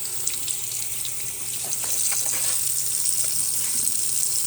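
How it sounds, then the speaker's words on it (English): Tap water runs steadily into a sink while a cleaning cloth is rinsed under it, a continuous hissing splash with no talk. "So let's rinse this"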